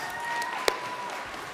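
A conference audience at an Indigenous cleaner energy forum gives steady applause, a brief wash of many hands clapping heard at moderate distance.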